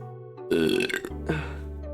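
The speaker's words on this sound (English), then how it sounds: "That's the kind of burp you get for eating dinner." A loud, drawn-out burp after eating dinner, rising sharply and rumbling for about a second before a second shorter belch trails off, heard alone without speech.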